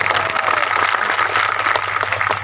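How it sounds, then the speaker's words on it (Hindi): A crowd at a gathering of unemployed supporters claps together in steady, dense applause that holds at an even level throughout, with a faint murmur of voices underneath. "अब उन सभी साथियों के लिए एक बार तालियां बजा दो यार।"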